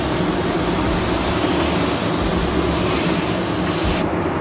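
A spray gun lays down a pearl white basecoat on a panel, a loud continuous hiss of atomized paint that runs steadily and cuts off abruptly near the end.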